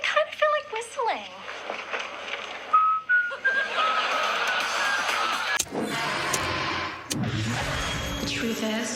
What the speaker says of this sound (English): I kind of feel like whistling.